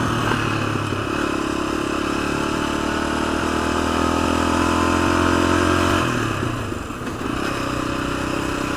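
A 1986 Honda XL250R motorcycle engine climbing a neighborhood hill drones steadily at moderate revs, holding a constant pitch with a slight dip near the end, close and continuous.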